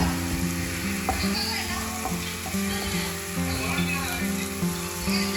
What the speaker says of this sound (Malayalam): സവോളയും തക്കാളിയും ഉപ്പും കൂടി ഇട്ട് നല്ല രീതിയിൽ ആദ്യം തന്നെ അങ്ങ് വഴറ്റിയെടുക്കുവാണ്